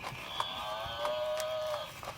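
A buffalo gives a single drawn-out moo that rises and then falls, heard close and clear with no voices over it.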